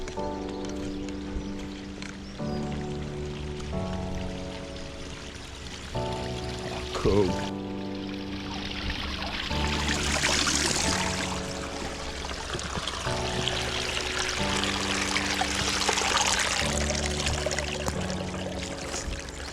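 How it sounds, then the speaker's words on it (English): Water runs and trickles along a path at Sywell Country Park on its waterworks heritage trail, a steady close flow heard under people chatting and a tonal hum that comes and goes. "Oh, look, some more running water here."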